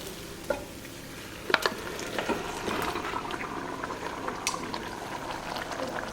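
Pressure-cooked mutton with its cooking liquid goes into a simmering Kerala mutton curry gravy, giving faint bubbling and sloshing with a few sharp clinks and splashes near the start.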